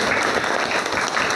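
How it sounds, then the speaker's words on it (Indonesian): Classroom applause for a fellow student, a short burst of dense, loud hand-clapping from a group of pupils with no talking over it. "Tepuk tangan buat teman kita"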